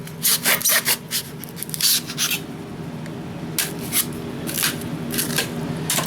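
Trimming down a wooden shelf with a hand tool produces short scraping, rasping strokes in irregular bursts, some quick clusters and some spaced pauses, close and moderately quiet over a faint low hum.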